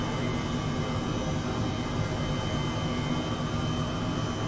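Steady, dense engine drone of an EC135 helicopter in Microsoft Flight Simulator 2020, continuous and fairly loud throughout with no pauses or voices.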